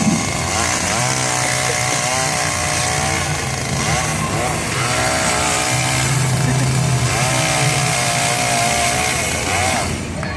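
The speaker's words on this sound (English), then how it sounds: "It's a real chainsaw." A chainsaw engine runs continuously at a loud, steady drone, its pitch wavering slightly as the throttle shifts.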